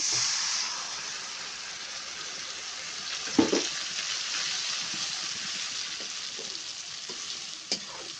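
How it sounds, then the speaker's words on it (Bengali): A water-loosened spice paste is sautéed with onions in a pan for a fish bhuna curry. It gives a continuous, even sizzle up close, with a couple of brief utensil knocks partway through. "এখন মশলাটা খুব সুন্দরভাবে কষিয়ে নেব"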